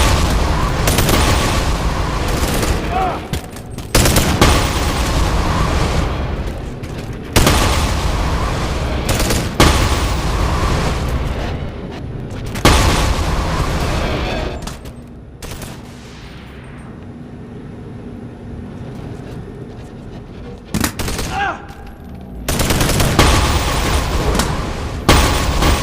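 Shotgun blasts in the virtual reality game Bonelab, loud booming shots fired in a series of separated bursts with short pauses between them and a quieter stretch midway, and no voices.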